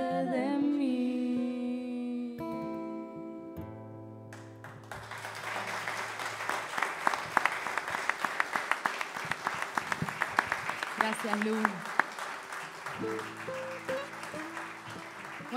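Audience applause rises after live music in a cultural centre. Sustained clapping fills the room while sung and instrumental notes end, then a voice speaks briefly and music returns.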